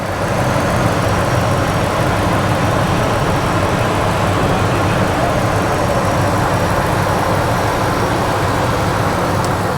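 A steady, low engine rumble from a supercharged Ford Harley-Davidson idles on with an even hiss, no talking and no change in pitch throughout.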